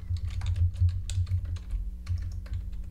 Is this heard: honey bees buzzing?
no